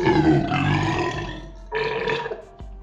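Two long, deep, rumbling burps forced out after downing a can of soda during a burping contest, loud and close, the first drawn out, the second shorter with a final small click.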